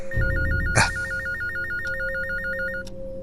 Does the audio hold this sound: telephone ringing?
yes